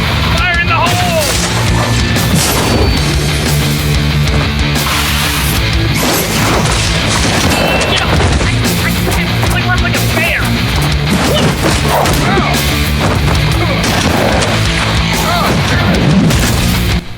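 Explosions from a grenade-throw battle scene in the Halo machinima Red vs Blue make a dense, loud chaos of crashes, booms and impacts, with shouted voices mixed into the continuous clamor.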